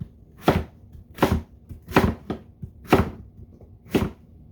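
A knife chops vegetables into pieces on a cutting board for boiling, six sharp knocks in an uneven rhythm with short pauses between, close and clear with no talking.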